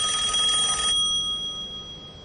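A telephone rings loudly with an incoming call on a live radio call-in show, a bright electronic burst that stops after about a second, leaving steady tones and a low hum.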